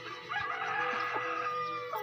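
Chickens cluck steadily and close while being fed, several birds calling over one another in a farmyard setting.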